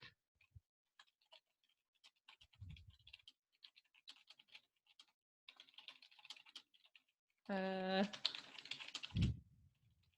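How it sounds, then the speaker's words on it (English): Keyboard typing on a computer, heard as scattered soft clicks and taps in short bursts, with a louder tonal beep and a thump near the end; fairly quiet overall. "So I'm going to click underneath that where it said write something, and now I can type."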